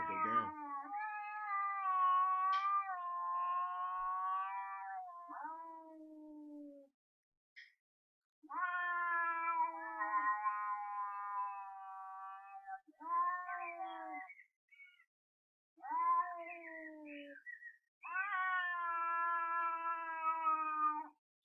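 Cats caterwauling in a shed, long drawn-out wailing meows in several separate bouts with short pauses between, loud and close, with no talk.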